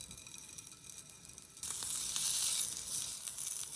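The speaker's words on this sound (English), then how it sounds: "Fry the sausage." Scored sausage frying in oil in a hot frying pan: quiet at first, then a sudden, bright, steady sizzle that continues loud and crackling to the end.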